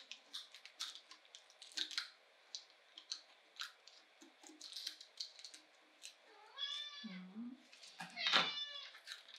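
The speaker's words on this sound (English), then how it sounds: "Oh, there's your cat." A nearby cat gives a couple of drawn-out meows, and before them come soft paper rustles and clicks from a craft table where a spin drum is being made.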